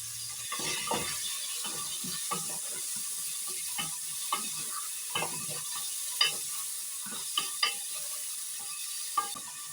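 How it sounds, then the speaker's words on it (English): Garlic, ginger and onions frying in a pan while a utensil stirs them, giving a steady sizzle broken by repeated scraping and clacking strokes at an uneven rhythm, close up with no talking. "I'm going ahead to stir the mixture of garlic, ginger and the onions, and then after that I'm adding in the meat"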